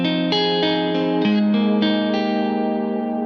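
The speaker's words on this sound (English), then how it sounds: "So that's the neck pickup coil split." Distorted chords from a Gibson baritone SG, neck pickup coil split, ring out one after another, each strum sustaining with a chorus-like shimmer and a bit of reverb.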